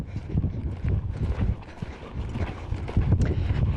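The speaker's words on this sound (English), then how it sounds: "First, I'll ask the horse for the left lead canter." A horse canters on the left lead in a riding arena, rhythmic muffled hoofbeats thudding in repeated groups, close by, with wind buffeting the microphone.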